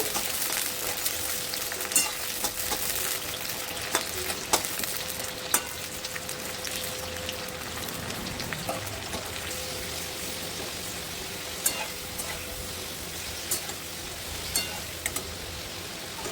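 Thin slices of papaya frying in a pan for Bengali shukto, giving a steady dense sizzle with faint crackles and occasional stirring clicks throughout, no talking.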